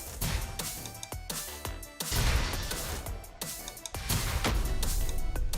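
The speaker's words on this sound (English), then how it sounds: "the audio from all the explosions gets glitched out really badly when you're" Glitched, distorted explosion sounds from the Ghost Simulator video game, a dense, harsh wash of crashing bursts repeating roughly every second and a half, loud and continuous, with no speech.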